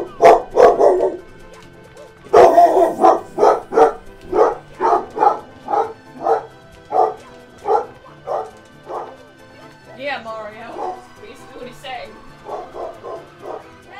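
A dog barks repeatedly in a steady rhythm, close and loud, with a few whimpers and yips toward the end and a person's voice in the background.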